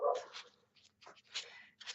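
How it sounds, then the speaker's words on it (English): Dog barking next door, a few faint, slightly distant yips and barks in quick succession with short gaps, heard alone. "Excuse the dog barking"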